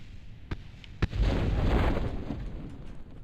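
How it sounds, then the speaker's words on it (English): Rocket ship crash-landing on solid ground in Kerbal Space Program: two sharp pops followed by a sustained, rumbling explosion roar that swells and slowly fades. "All those explosions was the rocket ship hitting down."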